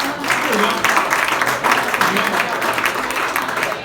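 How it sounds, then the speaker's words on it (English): A comedy club audience breaks into sustained applause, dense and steady clapping from many hands that fills the room, with scattered voices underneath. "Got a lot of people clapping."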